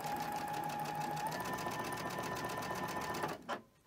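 A sewing machine runs steadily for over three seconds, stitching pinned fabric strips in a quilting studio with a continuous whirring drone before stopping abruptly.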